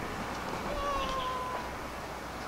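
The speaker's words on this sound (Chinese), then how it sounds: "然后提轩看到猫他就想去撸猫" A cat on a path through a Fudan University campus lane in Shanghai gives a couple of short, thin meows midway, faint against outdoor background noise.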